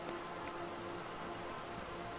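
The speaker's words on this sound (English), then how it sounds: "Oh, it's raining. It is raining." Rain falling in the video game Fragmented, a steady, faint hiss of dense rainfall with no breaks or voices.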